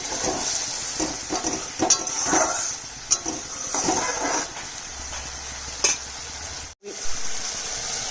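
Soybean curry sautéing in a pan, an even close sizzle with intermittent clacks and scrapes of a spatula stirring against the metal, and a brief dropout near the end.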